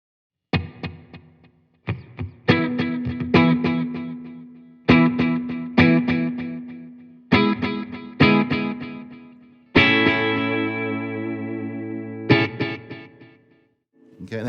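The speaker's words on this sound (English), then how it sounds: "So here's reverb with delay" An electric guitar played through a Fender Champion 100XL amp with reverb and delay, loud strummed chords and picked notes in separate bursts, each tail ringing and echoing before the next.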